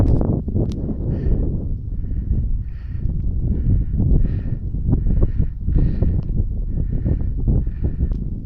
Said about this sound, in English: Sorry guys, it's a bit windy.